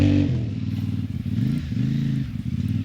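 A CFMoto 450 MT motorcycle rolls slowly over crusted sand, its engine a loud, steady low thrum that rises and falls slightly with throttle and clutch.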